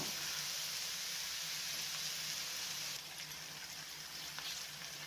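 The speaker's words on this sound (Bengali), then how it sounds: "এখন আমি জল দিচ্ছি, আধাটা জল দিলাম।" Water poured into a pan of cooking vegetable chaat makes a loud, steady sizzling hiss that drops slightly partway through and then continues evenly.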